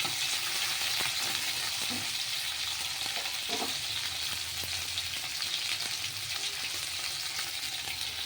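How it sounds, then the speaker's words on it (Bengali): Tangra fish sizzles steadily in hot oil in a pan as it is turned over, a close, loud frying hiss broken by light scraping and stirring clicks. "উল্টে পাল্টে একটু ভেজে নেব, খুব কড়া করে ভাজার কোনো দরকার নেই।"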